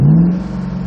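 A 2013 Shelby GT500 engine is floored against a 2600 RPM launch control limit, giving a loud, close, brief rev that peaks quickly and then holds at a steady, slightly lower drone.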